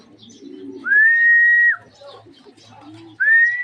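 Racing pigeons arriving back at their loft after a race from Gerona, Tarlac give low, soft coos alongside two long, loud, steady whistling tones, close by and with no talk.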